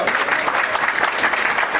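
Audience applause at a municipal police (zabıta) breakfast award ceremony, a dense steady wash of many hands clapping at a constant level, fairly close, with no clear voices.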